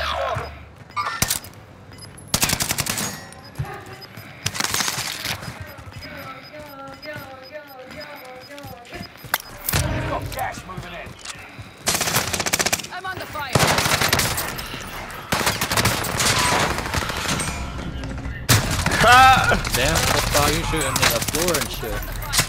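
Video game gunfire crackles in rapid automatic bursts and single shots, recurring throughout alongside players chatting over it.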